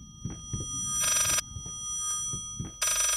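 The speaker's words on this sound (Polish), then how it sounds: "I gdzie ten telefon dzwoni?" An old-style telephone bell rings in the horror game Layers of Fear, two loud metallic bursts about two seconds apart, with low thudding footsteps or heartbeat-like pulses between them.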